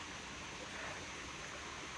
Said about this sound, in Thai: เจอแหล่งน้ำน้ำไหลนะครับ เป็นตีนดอยนะ